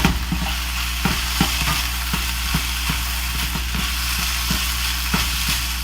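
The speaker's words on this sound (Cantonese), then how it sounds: "咁我哋兜勻佢啦。" Glutinous rice stir-fried with vegetables, soy sauce and sugar in a wok, with regular scraping taps of the spatula against the pan over a continuous sizzle and low hum, close by.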